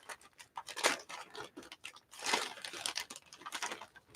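Scissors cut a mailing label off the back of a paper envelope, giving close, crisp crinkles and crunching snips in uneven bursts. The sound is fairly quiet and no voices are heard.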